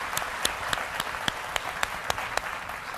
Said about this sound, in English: I would like to take a moment and congratulate everybody in the room with a round of applause.